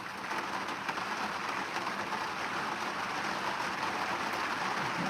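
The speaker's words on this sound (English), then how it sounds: "Oh, it comes a bit more rain." Steady rain hisses down continuously and evenly, with a soft, dense patter and no breaks, moderately loud throughout.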